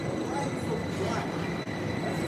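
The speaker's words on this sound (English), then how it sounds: "This train here, this class 720, is about to leave to Hertfordshire." A class 720 electric train stands at London Liverpool Street station, a steady broadband rumble and hum of the train and station filling the whole stretch at moderate level with no clear talk.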